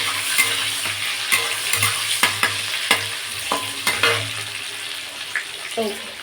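Ground cumin and coriander sautéed and stirred in a pan, with a continuous low sizzle broken by repeated sharp scraping clicks of a spoon against the pan at an uneven pace, close and with no speech.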